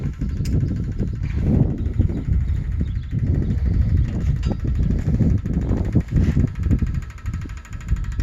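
Old 190 XT tractor engine sputtering and struggling to run on ether with a fuel leak, a rough, uneven, continuous rumble with irregular chugs, loud and close.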